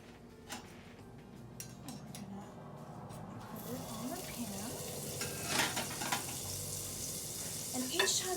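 Butter sizzles in a pan for blini pancakes. A soft hiss swells into a brighter, steady fry partway through, with faint voices and light clinks in the background.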